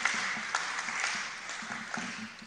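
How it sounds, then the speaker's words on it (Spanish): A distant, faint round of clapping from an audience at a political talk, honoring a man named Pepe Aguado, with scattered individual claps standing out over a soft, steady patter. "Un aplauso para Pepito"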